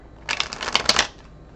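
A quick riffle of tarot cards being shuffled, a short crisp burst of flicking paper lasting under a second, close and fairly quiet.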